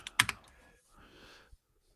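Typing on a Chromebook keyboard: a quick cluster of close, sharp key clicks at the start, a softer stretch of fainter tapping, then one last light tap in a quiet room.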